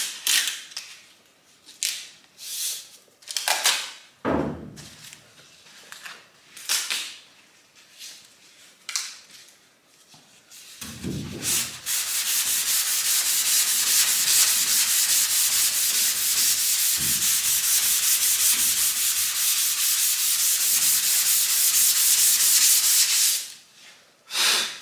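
Sandpaper rubs by hand over poly primer, first in short scattered strokes, then in a long steady continuous scrub, loud and close with no talking.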